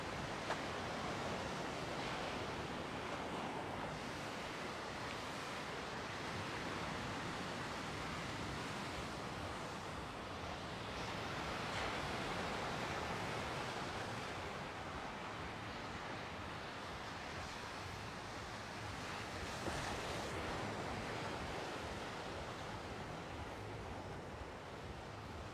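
Gentle, fairly flat sea waves washing onto the beach at Side in the evening, a soft continuous rushing surf with slow swells, faint and distant, mixed with light wind and no talking.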